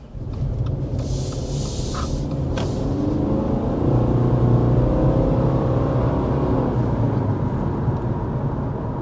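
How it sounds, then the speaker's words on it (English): A 2024 Subaru Forester engine rises under hard acceleration, a steady loud rumble heard from inside the cabin that swells and climbs before levelling off, with no talk. "we want to go ahead and start with a hard acceleration"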